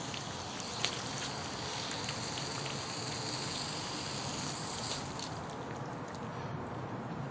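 Water rushes from the open end of an Xhose expandable garden hose as a steady, even hiss, like rain, with no voices.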